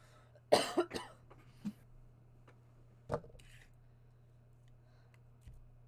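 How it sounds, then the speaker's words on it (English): A single sharp cough, followed by a few softer throat noises and small scattered clicks over a quiet low hum. "Cough."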